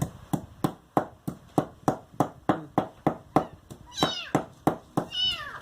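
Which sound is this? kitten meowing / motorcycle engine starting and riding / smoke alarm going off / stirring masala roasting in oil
kitten meowing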